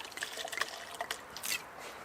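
White wine poured into a glass, a small tasting splash with trickling, glugging liquid and a few bright clinks, close and quiet with no talking.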